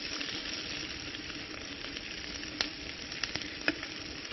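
Butter melting and frying in a pan with mirepoix and garlic for a Bresse chicken dish, giving a steady, close crackling sizzle with a few sharper pops and spatters.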